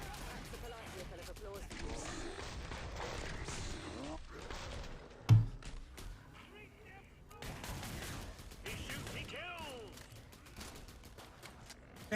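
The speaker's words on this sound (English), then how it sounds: "I'm just running around shooting pistols." Revolver pistols fire in Killing Floor 2 as a run of sharp gunshots over continuous game noise, one loud crack standing out near the middle, with someone talking throughout.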